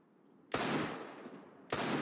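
Gunfire in Counter-Strike: a loud, dense burst of rapid automatic shots lasting over a second, then a brief gap before another burst starts, close and dominant with no talk over it.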